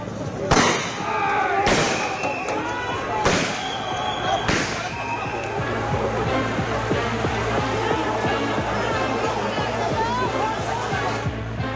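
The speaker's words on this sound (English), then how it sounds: "Fired tear gas shells." Tear gas shells are fired at protesters during a violent street protest in Kolkata, four sharp loud bangs in the first five seconds over constant crowd and street noise, with a voice talking throughout.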